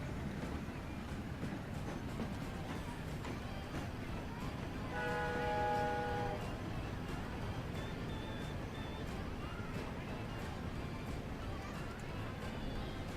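A video game train in Transport Fever rumbles steadily along, with a brief horn blast partway through and faint voices underneath.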